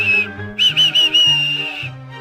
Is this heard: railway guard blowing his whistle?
yes